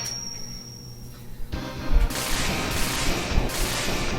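Shotgun Ice fired in the game Mega Man X, with a quiet stretch before a sudden bright burst, then sustained crackling weapon and effect noise in quick pulses, over a game music bed and with no talk.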